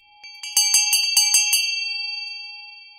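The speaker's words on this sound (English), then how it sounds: "Suddenly, there was a loud ring at the bell again, and then another." A doorbell rings in a quick run of bright, resonant chimes that then fade away slowly into silence.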